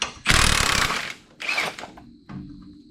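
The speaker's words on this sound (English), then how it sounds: "First, we need to unbolt this bump stop because there's some more huck bolts hiding behind that." Unbolting a bump stop from a heavy 7-ton truck frame: loud bursts of ratcheting and metallic tool noise, a long rattling run followed by a shorter one, then quieter clanks and a faint ringing tone.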